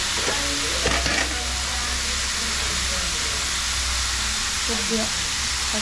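Bottle gourd curry with turmeric being stirred in a pan: a continuous sizzle and steam hiss with a few spoon scrapes near the start, fairly soft and steady.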